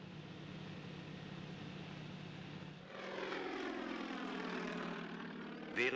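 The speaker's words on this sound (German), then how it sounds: "Während das Flugzeug die Wendekurve zum erneuten Anflug durchführt" An agricultural propeller airplane on a forest pest control flight drones steadily, its engine note swelling louder and shifting pitch midway as it banks into a turn for another pass.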